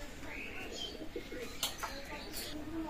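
Oman Teddy pigeons coo softly and low in a noisy indoor setting, with a few scattered chirps and a murmur of background sound around them.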